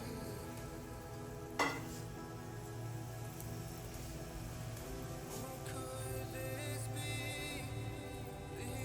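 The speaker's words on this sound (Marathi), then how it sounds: "तेल झाले गरम मी यात टाकते पहिला आपला बटाटा वडा" Batata vada, a spiced potato fritter, frying in hot oil, giving a steady close sizzle throughout with one sharp crackle burst near the start, and no one speaking.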